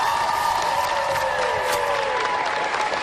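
A large crowd in a school gym cheers, whoops and applauds continuously during a live morning broadcast, loud and dense throughout.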